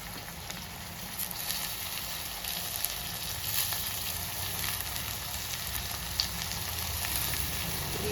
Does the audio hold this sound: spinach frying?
yes